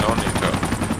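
Helicopter rotor thumping in Project Reality, a steady pulsing beat loud and close, with a voice talking over it.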